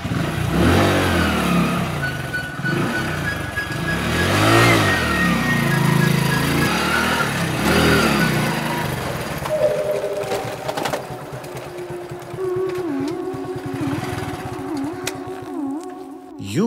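Motorcycle engine idling and revving unevenly, then a steady running drone with pitch rising and falling as it rides off, loud and close throughout.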